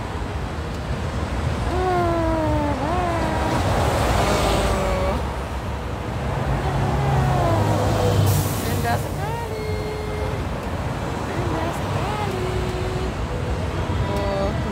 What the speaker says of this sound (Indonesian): Nih, ada bus datang lagi.